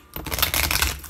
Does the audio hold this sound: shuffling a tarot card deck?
yes